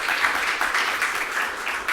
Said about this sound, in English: Let's clap for customer service workers.